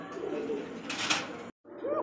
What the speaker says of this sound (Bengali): এখানে আরও এক জোড়া ব্লু শার্টিন কবুতর